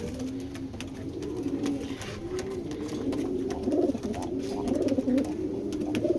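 Giribaz pigeons coo in low, repeated throaty bursts as a male courts a female, close and continuous, with scattered clicks and rustles from the birds' surroundings.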